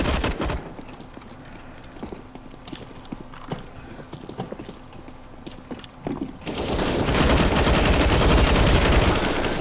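Video game gunfire rings out as scattered sharp shots, some rapid and clattering like hoofbeats, then builds into a loud, sustained roar of dense firing near the end.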